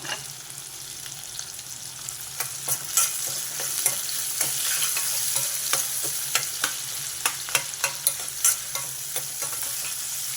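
Onions fry on high heat in a pan under a constant bright sizzle, punctuated by repeated light scrapes and taps as they are stirred, close up with no voices.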